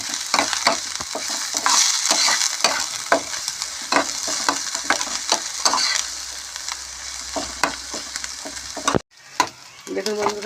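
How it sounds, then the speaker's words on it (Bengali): Chopped onions and green chillies sizzle and crackle in hot oil as a spatula stirs and scrapes them steadily around the pan, close and loud, with a brief pause near the end before the frying resumes. "এর মধ্যে আমি 2টো পেঁয়াজ দিয়ে দিলাম কুচি করে, আর দিয়ে দিলাম 4টে কাঁচা লঙ্কা। এটা আমি ভালো করে একটু নেড়ে নেব"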